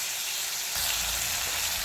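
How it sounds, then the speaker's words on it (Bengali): Prawns seasoned with salt and turmeric frying in hot oil in a kadai, giving a continuous close sizzle that swells slightly partway through, with no talking. "ভেজে নিচ্ছি।"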